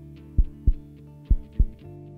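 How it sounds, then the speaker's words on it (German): A heartbeat sound effect: four loud, deep thumps falling in two pairs over a low steady hum, with no other sounds. "Wenn viel Adrenalin im Blut ist, fängt das Herz an, schneller zu schlagen."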